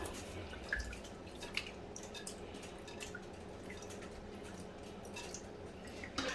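Grapes get swished and rubbed together in water during a quick wash, giving soft sloshing, drips and light splashes, close by and fairly quiet with no talk.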